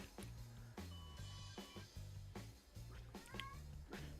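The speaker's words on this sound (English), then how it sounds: "My cat, I think, wants attention." A house cat meowing for attention, a few short calls standing out over steady background music and game sounds during a Star Wars Galaxies Legends server session.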